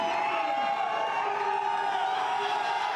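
Arena crowd at a strongman max-rep log lift competition roaring and cheering steadily behind a lifter, a dense, sustained wall of voices and whoops with no break across the moment.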